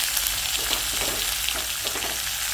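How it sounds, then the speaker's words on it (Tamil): Curry leaves sizzle and crackle steadily in hot oil in a pan as they are sautéed, a dense continuous frying hiss with scattered pops and stirring scrapes throughout. "இது நல்லா வதங்கணும். அது கூடயே நம்ம கருவேப்பிலையை போட்டுக்கலாம்."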